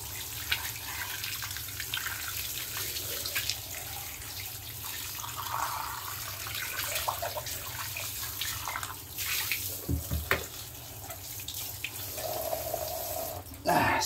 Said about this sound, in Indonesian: Bilas.